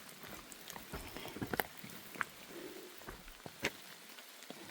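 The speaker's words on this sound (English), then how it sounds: "It's been a steady rain ever since, since yesterday." Steady rain falls on the Appalachian Trail in socked-in mountain weather near Winding Stair Gap. It makes a continuous soft patter with occasional louder drips landing close by, and no one speaks.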